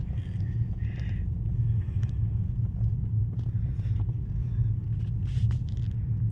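A 2009 Dodge car idling nearby, a steady low engine rumble throughout with faint scattered background sounds and no clear talk.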